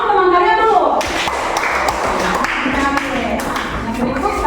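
A classroom of students claps for their classmates, a dense burst of applause from the group in a room, with voices talking over it throughout.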